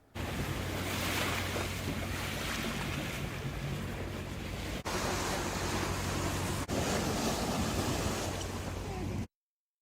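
Tall ship Pride of Baltimore II motoring at sea off an offshore wind farm, with steady loud wash of waves and wind buffeting the microphone, a low engine hum beneath, continuous throughout with no talk.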